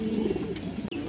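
Pigeons of a colourful Sapchila line cooing close by in a steady low throaty murmur, continuous through the brief moment, with a sharp break near the end.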